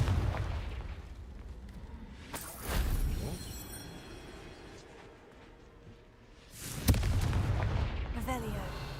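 Confringo fire spell explosions in the Hogwarts Legacy video game, two loud booming blasts about four seconds apart over a rumbling game soundscape.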